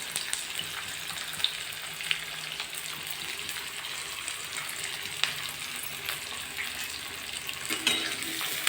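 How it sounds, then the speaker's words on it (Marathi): Onion fries in a pan for pitla, a gram-flour dish, in a steady soft sizzle with a few small clicks of utensil or stirring. "कांदा छान तळून घ्यायचा."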